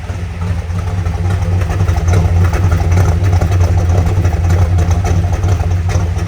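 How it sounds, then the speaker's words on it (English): A 1965 Chevrolet Malibu SS idling, its exhaust giving a deep, steady low rumble that stays loud and close throughout, with no voices over it. "Let's give a listen to that exhaust."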